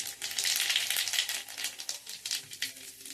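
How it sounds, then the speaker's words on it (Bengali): Half a teaspoon of black cumin seeds sizzling in hot oil in a wok, a steady close crackle with rapid popping bursts and no talking. "কড়ার তেলটা গরম হয়ে গেছে, আমি এখানে হাফ টিস্পুন মতো কালো জিরে দিয়ে দিলাম।"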